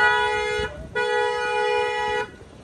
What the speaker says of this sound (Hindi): तो कुछ इस तरह का यहाँ पे हमारा हॉर्न है